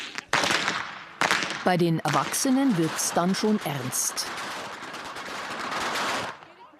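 Sharp, rapid whip cracks from teams in a traditional Passen competition, a dense rhythmic volley of loud snaps that runs through most of the clip alongside talking and crowd noise.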